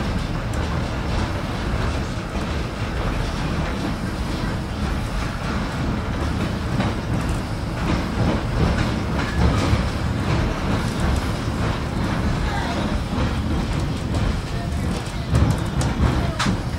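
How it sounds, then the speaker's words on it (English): Steady rumbling and rattling of a caboose rolling along railway tracks, with bumpy clatter and occasional louder jolts throughout, at a transportation museum; people talk briefly over the ride noise. "Riding in a caboose. So it's a little bumpy."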